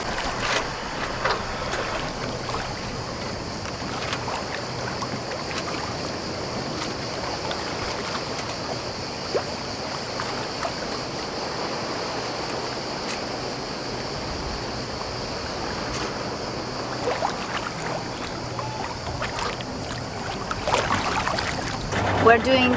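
A small sailboat motors along the coast to a new anchorage. Water rushes steadily past the hull with a constant engine drone, close and continuous, and a voice speaks over it at times.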